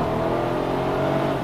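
A BMW 6-Series in sport mode holds a steady, droning rev around 5,000 RPM with its old valves clattering, a loud, even engine roar heard from inside the car with no voices.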